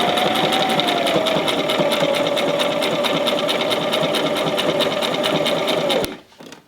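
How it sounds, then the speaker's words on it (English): A sewing machine stitches a fleece lining into a beanie with a fast, even run of needle clatter and motor whine, loud and close, stopping abruptly near the end. "we're going to do a little back stitch, and then we're going to go ahead and keep going forward"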